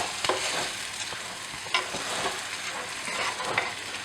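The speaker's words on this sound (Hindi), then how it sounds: "अब इसे 2-3 मिनट तक मैं ऐसे ही फ्राई कर लूँगी इसमें।" Tomato paste masala frying in a pan for a spicy potato gravy, giving a continuous close sizzle broken by several sharp scraping clicks as a spoon stirs it, with no talking.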